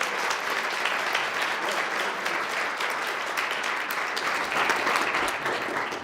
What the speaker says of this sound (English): I want to give those volunteers a round of applause right now.